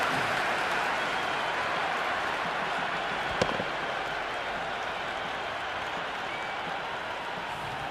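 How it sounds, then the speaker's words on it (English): A steady, dense roar of a stadium crowd cheering in the cricket video game Cricket 26 during an IPL match, continuous and loud throughout with a brief sharp click partway through. "There's a buzz, a real buzz coming from the stands."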